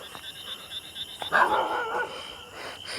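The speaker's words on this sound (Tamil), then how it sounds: "அந்த பக்கம் நாய் வரடா, மாட்டிக்கிட்டோம் நல்லா." A dog barks a short burst outdoors at moderate distance, a single rough bark-yip amid background noise and faint voices.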